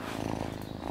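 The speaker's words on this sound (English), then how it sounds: "Listen to that purr." A kitten purrs in a low, steady, continuous rumble, close and clear, for a brief moment.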